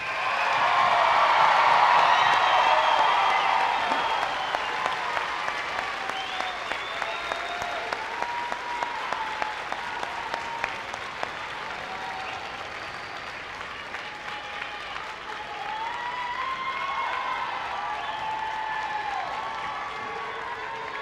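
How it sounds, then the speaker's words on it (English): A large crowd at a high school graduation applauds, loud at first and then settling into steady, sustained clapping that continues throughout, with faint cheers mixed in. "Let's give them another round of applause."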